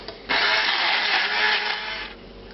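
A food processor whirs steadily as it purees a fish mousse with white pepper and a dab of Dijon mustard, a close, loud blending drone that starts abruptly and runs for about two seconds before easing off.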